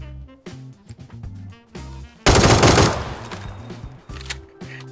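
Gunfire in PUBG, a loud sustained automatic burst erupting mid-clip and fading out, set among music-like in-game tones and scattered quieter sounds.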